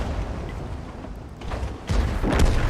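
A KV-2 heavy tank's big cannon in World of Tanks fires, two heavy booming blasts arriving close together late, rising out of a steady rumbling game-battle background.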